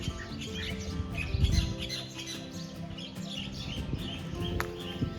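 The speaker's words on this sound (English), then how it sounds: "Got a million loud birds up there." Dense chorus of birds chirping and squawking high overhead at a Thai temple with a towering Buddha statue, a busy, loud wash of calls over low background rumble and murmuring voices.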